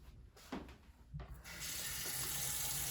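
Cold water from a tap starts gushing steadily into a pot after a few clanks and clicks, the hiss filling out and holding.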